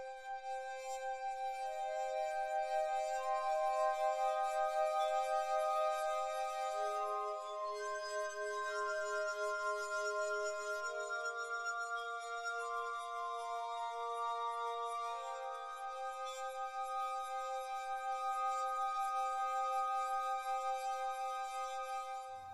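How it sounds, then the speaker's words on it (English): A wet finger circles the rim of a glass, drawing sustained, pure singing tones that hold and shift in pitch, layered into a shimmering reverberant texture, clear and alone without any talking. "we're exciting the glass and creating a reverberant texture by rubbing your finger across the glass rim with water"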